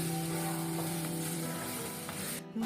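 Prawn curry ingredients for a homestyle Kerala dish sizzle in a pan as they are stirred, a steady low hiss with a faint hum underneath that cuts off abruptly near the end.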